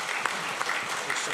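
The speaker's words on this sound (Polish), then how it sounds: "Wielkie brawa dla laureata." Applause for an award winner at the Sygnety Wydawnictwa IPN gala, where prizes go to the best books. Steady, fairly dense clapping from a seated audience fills the short stretch at a moderate level, with no voices over it.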